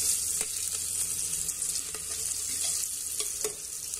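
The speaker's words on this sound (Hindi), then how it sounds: "इसमें कड़ी पत्ता डालते हैं। प्याज लाल होने तक इसको भून लेते हैं।" Chopped onions and curry leaves fry in hot oil in a pan, a loud, close, steady sizzle with occasional soft stirring taps, and no voices.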